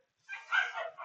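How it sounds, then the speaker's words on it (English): A street dog gives a short, faint yelping bark in the distance, one brief outburst of a few quick yips lasting about a second. "Just to hear the sound of street dogs."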